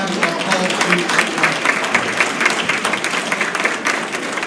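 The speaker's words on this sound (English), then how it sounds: "Let's give another round of applause for all 5 of our Hall of Famers." Dense, continuous applause from an audience honouring Hall of Fame inductees at a West Memphis event, steady and fairly loud throughout with many overlapping claps.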